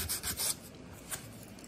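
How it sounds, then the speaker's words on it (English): Small wooden parts for a model horse cart are rubbed on sandpaper, giving a few short, close rasping strokes with a pause between them. "Now I need to sand this one. So this needs to be sanded this way a little."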